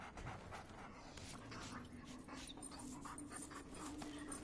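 Dog panting steadily in Remnant: From the Ashes as the pup is petted, a continuous breathy huffing heard close and moderately loud over a quiet game background, with no talking.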